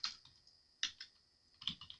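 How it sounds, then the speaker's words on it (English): Keys on a computer keyboard are typed in short bursts of quick, close clicks separated by brief pauses. "Then you're going to press enter and type in the next paragraph"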